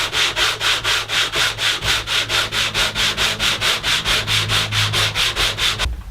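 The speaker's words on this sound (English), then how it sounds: "So I'm just gonna run that sole of this on a flat piece of wood," A plane's sole rubbed on sandpaper over a flat piece of wood makes a steady back-and-forth rasping, about four strokes a second, loud and close, with no talk.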